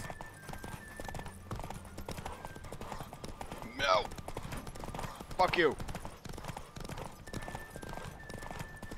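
In The Witcher 3, a galloping horse keeps up a steady, rapid clip-clop across the whole stretch while someone speaks briefly over it in two short outbursts.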